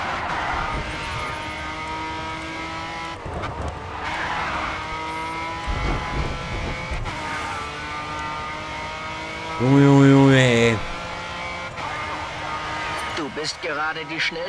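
In the Grid 2 racing game, a race car's engine drones and rises through gear changes, then the tires squeal sharply in a loud drift near the middle. Someone talks over the driving.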